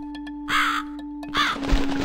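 A crow caws twice in the video game The Cat Lady, two harsh calls about a second apart. A steady electronic hum runs underneath, and a soft thud follows.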